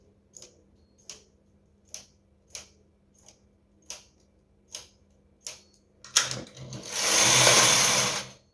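A knitting machine making a baby blanket gives a steady run of evenly spaced sharp clicks, then its carriage sweeps across the needles with a loud, rasping whoosh lasting about two seconds.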